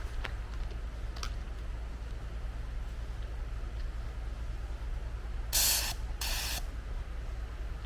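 An expired spray can fires two short hissing bursts outdoors near a picnic table, over a constant low background rumble.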